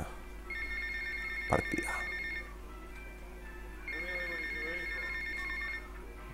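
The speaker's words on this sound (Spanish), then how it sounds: "I don't wanna answer phone now." Telephone ringing in Grand Theft Auto Vice City, two steady electronic ring bursts separated by a pause, with a person speaking briefly over the first ring.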